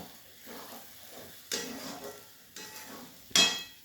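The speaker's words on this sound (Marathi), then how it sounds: "त्याच्यानंतर कोथिंबीर टाकून घेऊ हा मसाला दोन मिनटं परतून घेऊ आपण" Masala with fresh coriander being sautéed in a pan gives soft stirring and scraping under a faint sizzle, broken by a few sharper spoon-on-pan clinks, the last one loudest, with no talking.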